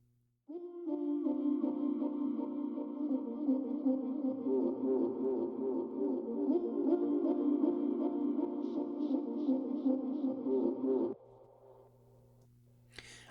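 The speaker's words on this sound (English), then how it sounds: "there is this sort of floaty, pad, vocally, mystical sounding thing in the background" Soft, floaty vocal-style pad woven into the background of an Akon mix, sustained harmonic tones swelling steadily for about ten seconds before fading into a quieter tail.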